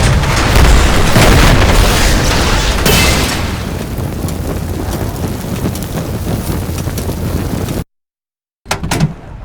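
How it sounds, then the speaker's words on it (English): A loud, close explosion detonates target vehicles in a video game, a heavy boom followed by a long rumbling roar that fades out, then silence and a brief burst of noise. "I've got eyes on the target vehicles. Ready for detonation."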